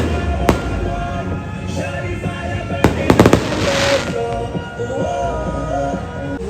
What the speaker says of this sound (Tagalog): may fireworks.